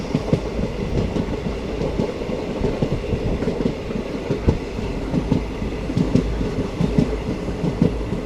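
A passenger train between Tirunelveli and Sengottai rolls along at steady speed, wheels clacking in a rhythmic pattern over a continuous low rumble, heard from inside a general-class carriage with no voices.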